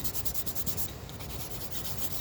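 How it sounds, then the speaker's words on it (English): Charcoal rubbed into a drawing of Edinburgh Castle, giving a soft, steady, scratchy rubbing with a brief pause midway, close and fairly quiet. "possibly rub it in with a bit of charcoal"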